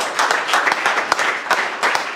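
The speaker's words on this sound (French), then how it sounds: "On acclame très très fort." Live comedy show audience in Goma applauding and cheering, bursts of clapping with sharp claps rising and falling in waves, loud and close, with little talk.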